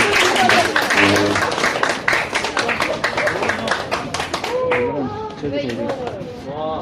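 Loud applause from a crowd fills the room, clapping steadily before thinning out as voices and chatter take over near the end.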